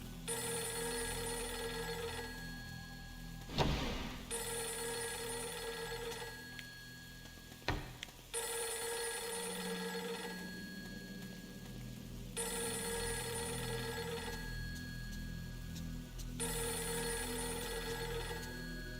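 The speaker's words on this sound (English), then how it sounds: "that phone will keep ringing" A telephone rings repeatedly in Fatal Frame III, steady electronic bursts of about two seconds separated by short pauses, with a couple of sharp clicks in between.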